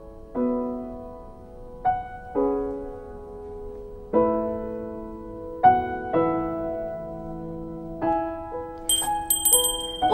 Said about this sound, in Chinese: 我一摇铃铛，你必须马上出现